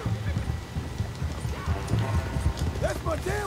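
Horse in Red Dead Redemption 2 clopping along with a steady hoof rhythm and a brief whinny near the end, under someone talking and faint game ambience.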